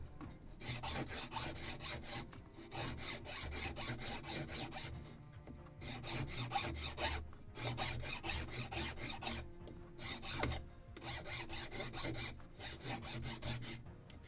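Rhythmic rasping strokes of a file and sandpaper on a wooden yard for a Model Shipways kit of the 1776 gunboat Philadelphia, repeated in steady bursts with brief pauses, close and alone.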